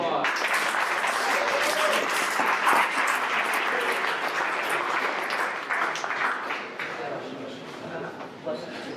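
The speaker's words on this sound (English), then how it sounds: "Let's give another round of applause." At an awards event for final presentations, an audience claps in a sustained burst of dense applause that holds loud for several seconds, then gradually thins and fades, with some voices mixed in.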